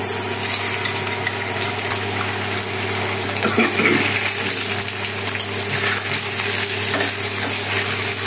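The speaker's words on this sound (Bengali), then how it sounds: "পনিরটা একটু ভেজে নেব।" Paneer fries in hot oil left over from frying potatoes, a steady close sizzle that runs unbroken throughout.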